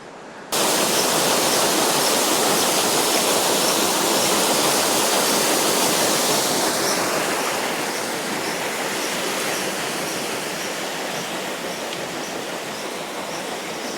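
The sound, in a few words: water flowing past a water wheel at Cromford Mills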